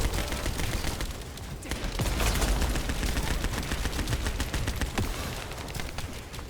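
Dense, continuous gunfire and artillery from The First Descendant, loud rapid bursts overlapping into a steady roar with sharp cracks throughout, no voices.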